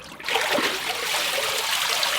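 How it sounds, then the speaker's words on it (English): Water and fibre pulled from a papermaking vat with a paper mould and deckle: a loud, close rush of trickling, splashing water that runs steadily without pause and with no voices. "you're basically chopping a chunk of water out of the vat"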